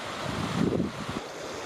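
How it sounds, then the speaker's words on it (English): A mountain creek running beside a shaded, steep hiking trail in Wyoming's Wind River Range, heard as a soft, continuous rushing hiss of flowing water with no talking. "This beautiful creek running along us."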